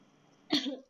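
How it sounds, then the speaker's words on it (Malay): A single short cough, close and clear, after a moment of near silence. "Batuk."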